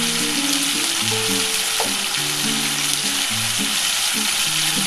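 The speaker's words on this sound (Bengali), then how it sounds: "মশলাটা দিয়ে একটু ভালো করে ভেজে নেব" Kashmiri chili powder, turmeric and spices fry in hot oil for a chilli paneer dish, making a loud, steady hiss that runs throughout, with a soft melodic tune playing beneath it.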